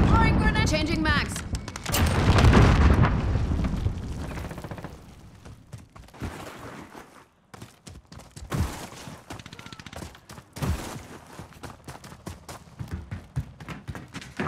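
Grenade blast and gunfire in a first-person military shooter with UAV and airstrike callouts: a loud burst of bangs and a heavy boom early on, then scattered shots and thuds, with radio-style game voices throughout.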